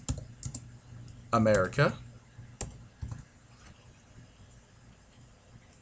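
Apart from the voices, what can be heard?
typing letters of a movie title into XBMC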